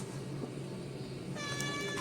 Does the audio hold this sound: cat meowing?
yes